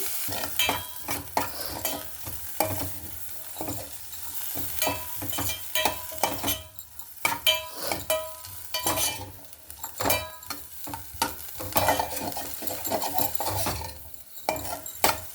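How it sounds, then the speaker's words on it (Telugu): Vegetables are added to onions frying in a pan for egg Maggi noodles, then stirred with a utensil that scrapes and clatters repeatedly against the pan over a continuous close sizzle. "ఇప్పుడు వెజిటేబుల్స్ యాడ్ చేద్దాం"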